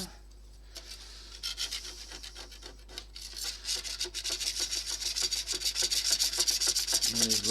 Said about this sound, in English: Let it rub against the paint.